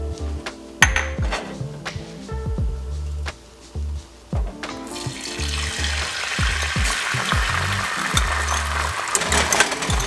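Egg cracked into a tablespoon of hot vegetable oil for fried rice, the sizzle swelling to a dense, steady hiss about halfway through, following earlier clanks and scrapes of a pan and utensil with background music.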